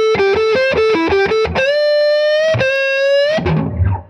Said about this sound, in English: That's my fuzz tone.